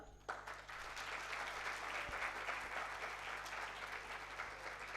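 A hall of students breaks into sustained applause after a lecture session, a sudden onset followed by steady, dense clapping over a low electrical hum.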